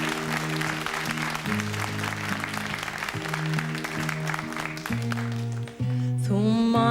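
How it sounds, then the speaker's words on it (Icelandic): Audience applause for the performers at a televised fundraising broadcast, broad clapping over sustained musical tones, with a singing voice entering near the end. "Við skulum klappa fyrir þeim"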